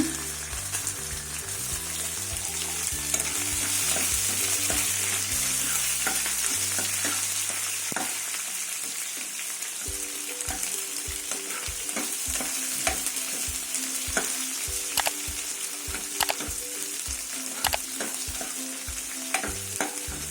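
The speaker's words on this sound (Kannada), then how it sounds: "ಈರುಳ್ಳಿ ಸ್ವಲ್ಪ ಬ್ರೌನ್ ಆಗಲಿ." Onions and curry leaves sizzle and fry in a pan for bisi bele bath, a continuous close hiss broken by scraping stirs, with a low hum fading out partway through.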